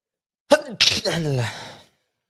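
A single sharp sneeze during a live forex trading stream, starting with a quick inhale and ending in a longer voiced trailing burst, close and clear with silence around it.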